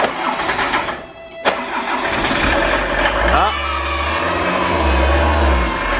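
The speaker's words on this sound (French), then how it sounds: "après plusieurs tentatives, toujours pas de démarrage du moteur" A campervan engine, hard to start after a harsh winter in storage, cranks with a grinding whir after many attempts, catches and settles into a low steady idle, with a brief exclamation from a voice early on.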